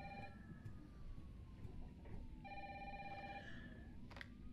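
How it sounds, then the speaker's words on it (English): A telephone rings in Resident Evil 3, two bursts of trilling bell ringing separated by a short pause, heard over a dense, droning game ambience. "Oh, the phone is ringing."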